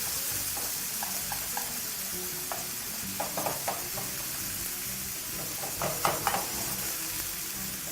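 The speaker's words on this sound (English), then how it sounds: "Just going to grab a spoon and we're just going to add that to the pan. And just use the spoon to just break that apart." Seasoned ground beef sizzles steadily in a pan while a spoon breaks it apart, with scattered scraping and clicking strokes over the constant frying hiss, close by.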